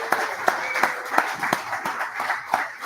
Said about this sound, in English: Let's give our guest, Markel, a big round of applause